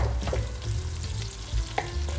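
Onions sizzle in a pan of hot oil over medium or slightly higher heat while cooking ajapsandal, an Armenian vegetable stew. The frying is steady and close, with soft crackles and no voices.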